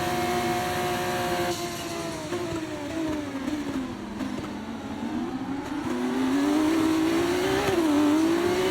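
Formula 1 race cars in the F1 24 game roar continuously at high revs, engine pitch sliding down then climbing again as they accelerate, loud and close throughout with no talk.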